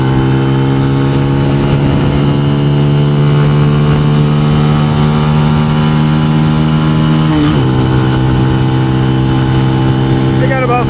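A Benelli TNT135 motorcycle engine drones loud and close at steady high revs while riding, its pitch holding then dropping sharply as the throttle shifts, with wind rushing throughout.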